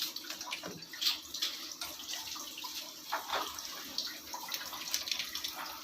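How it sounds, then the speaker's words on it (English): Water from a Livpure water purifier's filter drains through an extra pipe during a forward flush, a steady splashing, running stream with faint drips, close and continuous with no talk. "with the help of extra pipe we have to drain water again for at least 5 minutes"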